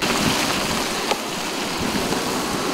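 Storm surge waves wash across West Bay Street, giving a continuous loud rushing and splashing of churning water with a few brief sharper splashes, and no voices.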